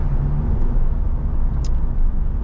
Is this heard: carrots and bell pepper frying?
no